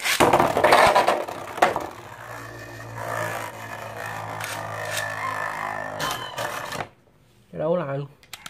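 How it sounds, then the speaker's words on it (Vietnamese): Two Nado spinning tops battling in an arena, a sustained whirring scrape with sharp clacks of collision, loud and close, then a brief silence and a short voice as they stop. "trận đấu giữa hai con quay này nha"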